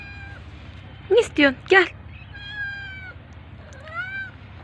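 A pregnant cat meows repeatedly indoors: three loud, close, sharp meows in quick succession, followed by softer drawn-out mewing, with someone speaking briefly between them.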